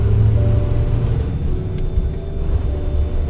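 A truck engine drones steadily while driving on a manual gearbox, with a constant rumble, road noise and faint hissing and clicks over the top.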